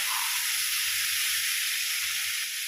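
Marinated raw rui fish tipped into a hot pan, giving off a loud, steady frying hiss and sizzle close up that holds without a break.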